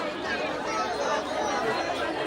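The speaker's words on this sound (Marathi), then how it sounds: "बघा फुल गर्दी आज फुल गर्दी" Dense crowd chatter fills the air at the crowded Ekvira temple on Karla fort, many overlapping voices forming a steady, close murmur throughout.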